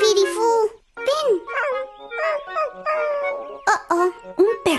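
A cartoon dog up on a roof yips, whines and whimpers in wavering, high-pitched cries, with short breaks between calls, loud and close, alone without talk.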